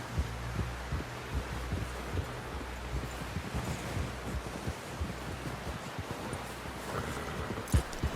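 A horse in the Red Dead Redemption video game, its hooves making a steady, rhythmic clip-clop of low thumps that carries on throughout at moderate loudness under a faint hum.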